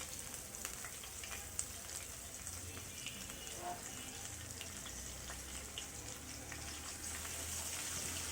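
Onion paste and ginger-garlic paste fry in a pan with a steady, faint, broadband sizzle and a few soft ticks of stirring, continuous throughout and quiet overall.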